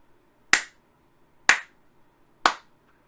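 Three lone, sharp hand claps ring out about a second apart, each followed by silence. They form a sparse, slow applause for an audience at a political event, not a crowd.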